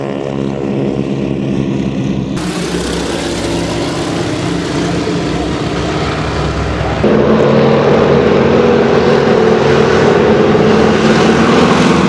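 A propeller airplane engine drones loudly and steadily during a wingwalking flight, heard close with rushing wind, growing rougher and more powerful partway through with a deeper roar and no talking.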